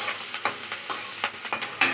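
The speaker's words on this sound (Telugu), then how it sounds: "ఇందులోనే ఇంకా బాగా ఎర్రగా వేగనిద్దాము" Beetroot curry sizzles and fries steadily in a pan, with repeated scraping stir strokes cutting through the hiss, close and loud with no voices.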